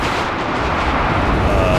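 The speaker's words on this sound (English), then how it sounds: "mortar fire in here" Mortar barrages in the wargame Warno, a dense continuous rumble of distant artillery impacts layered into a steady, loud roar of battle with no pause.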